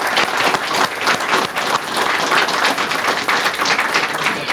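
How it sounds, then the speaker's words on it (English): A crowd at a memorial service and interment claps in sustained, dense applause, loud and close throughout with no talk over it. "give a big round of applause to all these men and women for all of their service"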